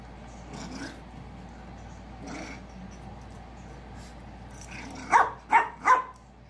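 A dog gives three sharp, close barks in quick succession near the end. Before that come soft scraping and rubbing sounds from mopping on a floor.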